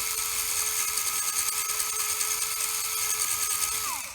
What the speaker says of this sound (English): that could be the little piece of heat shrink tube rubbing as well